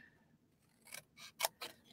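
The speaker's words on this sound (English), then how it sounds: "I'm just going to use my scissors" Scissors snip through paper sheets while a sticker autograph book is being crafted, giving three or four crisp, close cuts in an uneven rhythm over quiet room tone.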